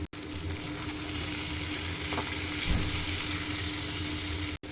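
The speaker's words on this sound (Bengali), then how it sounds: "এবার হালকা করে ভেজে নেব।" Potatoes and taro with salt and turmeric fry lightly in a pan, giving a steady, loud sizzle throughout, broken by a brief stirring scrape, with no talk.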